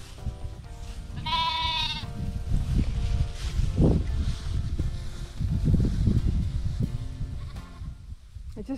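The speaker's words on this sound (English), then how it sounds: "It's one of the Lara's lambs" A young lamb bleats on an open sheep pasture, giving one clear wavering call over steady wind and rustling from the field, with low background noise throughout.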